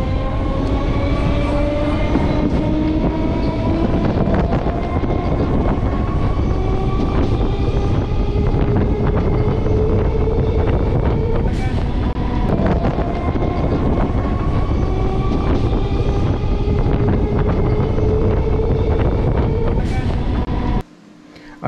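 A Chennai suburban train rumbles steadily along the rails between stations, a loud continuous roar with rhythmic clatter and a couple of sharp jolts, cutting off abruptly at the end.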